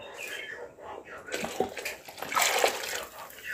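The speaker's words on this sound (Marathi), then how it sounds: "आणि ह्या मगाशी आपण ज्या कुर्ल्याच्या पायांचा पाणी केलेला ता आपण टाकतलो" Crab-leg stock is poured into a boiling coconut curry for a Malvani crab curry, a splashing, gurgling pour that swells and grows louder in the second half, close up.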